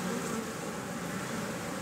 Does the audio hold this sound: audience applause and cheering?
no